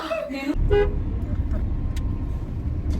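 A car horn gives a couple of short, loud blasts close by, over a steady rumble of engine and road traffic.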